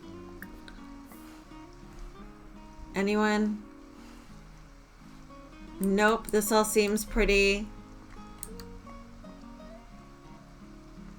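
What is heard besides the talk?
rain falling outdoors in the early morning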